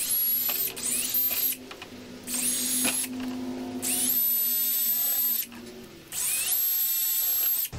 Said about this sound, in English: Now we can go ahead and drill the rest of our holes throughout the